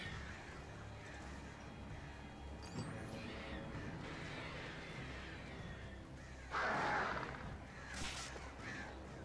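Attacking crows in the video game Alan Wake give harsh caws over a dense, faint game soundscape, with one louder burst of cawing near the end.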